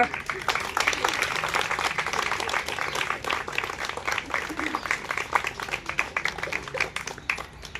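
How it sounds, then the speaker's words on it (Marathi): A group of people claps together during a teacher training game session, producing dense, continuous applause that stays steady for several seconds and thins slightly toward the end, with some voices mixed in. "चला टाळ्या वाजवा."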